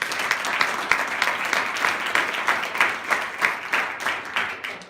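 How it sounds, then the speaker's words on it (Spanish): A church congregation applauds during a Spanish-language sermon, a steady stretch of dense clapping with rhythmic swells, fairly close and filling the room throughout. "Denle un aplauso a Jesús,"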